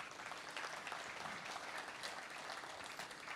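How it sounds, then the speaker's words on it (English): A crowd claps steadily in sustained applause, dense and even throughout, with no voices over it. "Let's acknowledge him with a round of applause."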